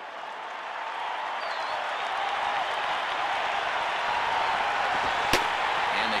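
A crowd in a baseball stadium in MLB 09 The Show rumbles as a broad, steady roar that swells slightly, with a single sharp crack near the end.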